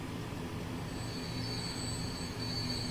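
A freight train in Transport Fever rolls into a station, a steady low rumble of wagons with thin high wheel squeal sustained throughout, fairly quiet and without talk.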